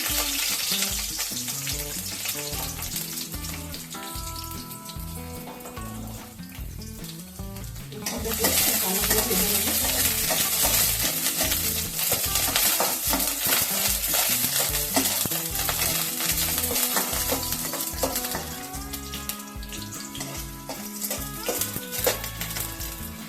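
Eight to ten garlic cloves fry in hot oil, making a dense, continuous close sizzle that grows louder partway through. Faint stirring and pan clatter run underneath.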